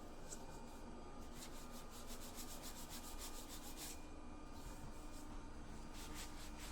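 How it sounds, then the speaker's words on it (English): Hand sanding during a home remodel, a steady scratchy rubbing of abrasive paper on a surface, with regular back-and-forth strokes that run continuously and close up, with no talking. "I gotta do some sanding."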